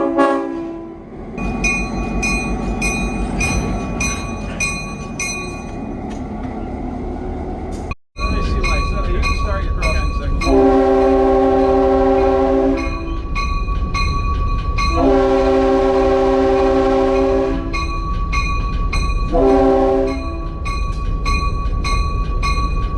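A Santa Fe CF7 diesel locomotive rumbles steadily nearby while its horn sounds several long blasts, with a brief cut in the middle and faint voices underneath.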